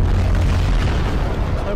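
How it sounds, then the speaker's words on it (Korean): The Tri Titan fires a laser blast, a loud, sustained booming roar with a dense rumbling low end that fills the whole moment without a break. "나도 레이저 있다. 발사!"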